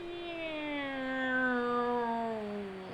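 A bird in Pokemon Legends Arceus gives a single drawn-out, meow-like tonal call that slowly falls in pitch, clear and fairly quiet, lasting a few seconds.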